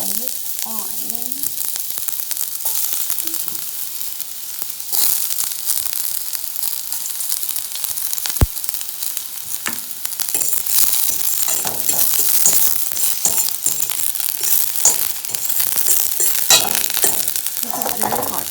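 Chopped onion sizzles and crackles in overheated, very hot oil for an omelette with collard greens, a steady loud fry with a sharp clink partway through and no talking.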